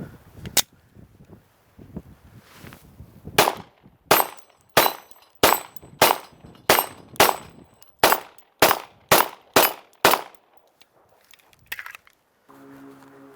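A Ruger 57 pistol in 5.7x28 fires at steel targets downrange: a quick string of about a dozen sharp, loud shots in an uneven rhythm, each followed by a brief ring.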